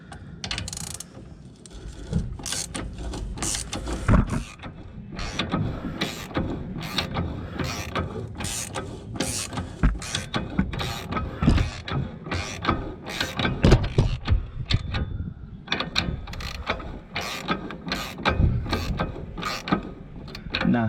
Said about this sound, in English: Hopefully my ratchet will be able to do this.